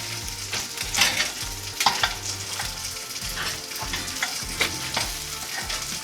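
Charred roasted bones being flipped one by one in a hot pan for broth, with scraping and clatter over a steady sizzle and several sharper knocks as pieces turn over.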